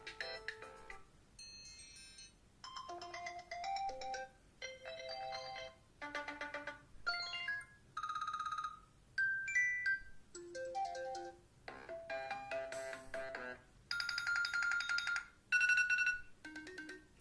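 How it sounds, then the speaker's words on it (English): A series of iOS 7 ringtones plays from an iPhone 4, each a short melodic burst of bright chimes and tones separated by brief silences, one after another in quick succession. "Yes, you do get all of the new ringtones here as well."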